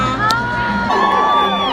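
A massive crowd of women at the Women's March cheers and whoops, a loud burst of overlapping shouts and rising cries in a brief, dense swell.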